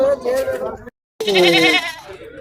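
A goat at the Kunnathur goat market in Tamil Nadu lets out two loud, close, wavering bleats separated by a brief silence.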